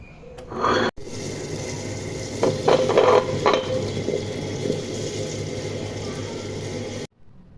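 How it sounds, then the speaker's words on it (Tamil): A wet grinder churns soaked murukku rice into batter, giving a steady wet whirring and sloshing that runs evenly for several seconds before stopping abruptly. No one speaks. "இப்போ கிரைண்டரில் போட்டு ஆட்டிக்கலாம்"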